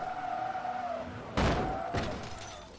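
A Ferrari crashes in the racing game Forza Motorsport 2, an engine whine cut off by a sudden loud crunching impact, followed by a second smaller crash and fading scrape.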